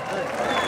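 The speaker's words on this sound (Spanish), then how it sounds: "venga el aplauso." Rodeo audience in Xochipala, Guerrero, applauding a rider at Rancho El Bermejal, a dense wash of clapping and crowd noise held briefly at moderate distance.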